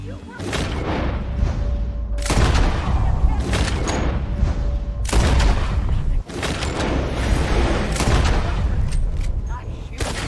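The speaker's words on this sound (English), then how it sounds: "Nice shooting." Heavy gunfire in the video game Red Dead Redemption 2: dense, loud volleys of shots and booming blasts roll on almost without pause, with voices under the barrage.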